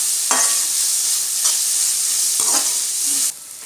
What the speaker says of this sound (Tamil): அதனால் வந்து வெங்காயம் நல்லா வதக்க விட்டுடலாம்